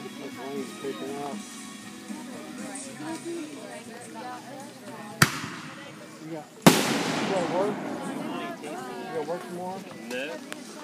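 Two sharp, loud July 4th firework bangs a second or so apart, the second followed by a crackling burst, with chatter and background voices throughout.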